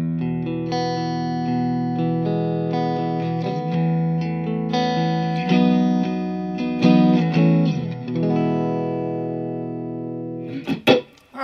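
A 2019 Fender American Ultra Stratocaster plays clean, sustained chords with slight effects, then fades and ends in a few scratchy, noisy strums.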